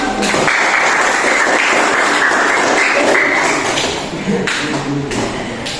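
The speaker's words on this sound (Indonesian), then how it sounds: "Tepuk tangan buat kelompok 1" A classroom group claps for a group of students after their presentation, dense steady applause filling the room loudly for several seconds before thinning slightly toward the end.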